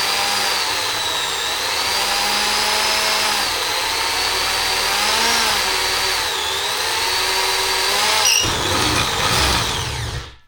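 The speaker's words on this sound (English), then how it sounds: "Make sure you have your drill where the hole is supposed to be." A faulty power drill, lubricated with WD-40, whines steadily and loudly for several seconds while drilling a hole, its pitch wavering a little, then the sound shifts abruptly just before it stops.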